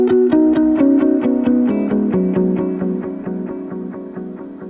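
Electric guitar runs through a Polymoon ping-pong delay pedal with reverb, a picked melodic phrase whose notes repeat in rapid rhythmic echoes that bounce and slowly fade into a warm, sustained wash.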